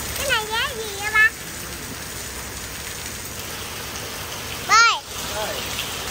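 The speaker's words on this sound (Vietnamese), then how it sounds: "À, trời mưa đang mưa xuống, bên cây nó tắm mưa." Rain falls steadily outdoors around trees, a constant close hiss under brief calls from a child and an adult.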